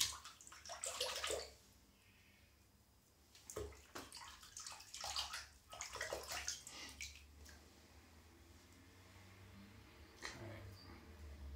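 Water runs from a tap to warm a razor before shaving, a steady splashing flow in bursts that rises and falls over about eleven seconds, close by, with no talk.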